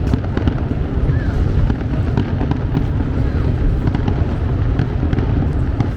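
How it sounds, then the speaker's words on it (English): Fireworks at a Catholic saint's festival in Malta crackle and pop continuously in dense, overlapping bursts, loud and close, with faint voices mixed in. "We got fireworks going off."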